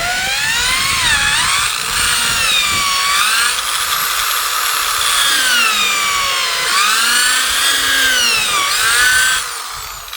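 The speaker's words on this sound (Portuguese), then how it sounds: "eu vou pegar a furadeira aqui primeiro e mandar a brasa aqui nesse primeiro aqui, ó, colocar bem no centro onde eu marquei e furar" An electric drill bores into a solid wood rustic table leg, its whining motor pitch rising and falling steadily and loud throughout, without speech.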